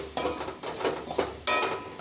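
Small onions frying with fish in a pan for a fish curry, heard as short bursts of spatula scraping and stirring over a soft sizzle, close by with quiet gaps between strokes.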